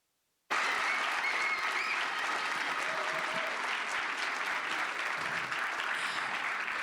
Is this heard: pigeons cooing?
no